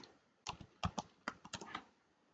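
Keys click on a computer keyboard in a short burst of about a dozen quick, close taps in an otherwise quiet setting.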